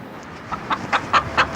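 A chicken clucking close by in a series of short, rising calls that grow louder, roughly four or five clucks over about a second, with no talk over them.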